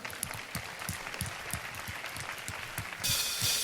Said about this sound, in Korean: 주님 앞에 우리 영광의 박수 올려드리겠습니다